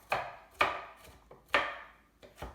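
A knife chops through an onion on a cutting board with about six crisp, close knocks at an uneven, unhurried pace.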